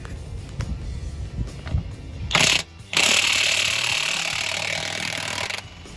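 Impact gun working a 24 mm nut loose on an International Prostar truck, with a short rattling hammer burst followed by a sustained close, loud whirring run after a brief gap.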